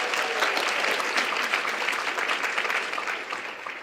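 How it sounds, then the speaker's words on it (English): Audience applause for Rachel at a community gathering on resilience and healing from trauma, dense steady clapping from a crowd, fairly loud and continuous before easing slightly at the end. "Rachel, big round of applause for Rachel."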